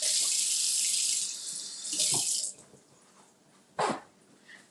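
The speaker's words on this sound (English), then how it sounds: "Wash my hands." A kitchen tap runs as hands are washed under it, a loud steady rush of water that stops, followed by a couple of short splashes and clatters near the sink.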